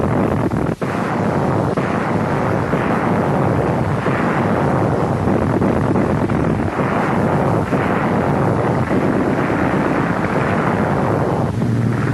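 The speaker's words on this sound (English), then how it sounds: "Allied guns blasted at 0 hour." Allied guns blasting at zero hour during the invasion of Sicily, a dense, continuous roar of gunfire and rumbling concussions, loud and close, with heavy wind-like noise over the whole stretch and no voices.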